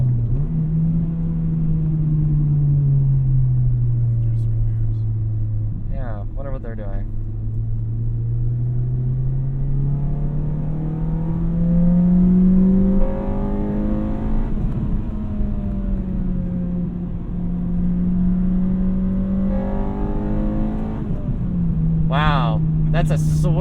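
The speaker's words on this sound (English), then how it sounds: "That's a sweet VTEC kickover." Inside a 2006 Acura RSX Type S, the engine drones steadily, its pitch climbing and falling as the revs build while VTEC kicks in, a loud continuous road rumble throughout.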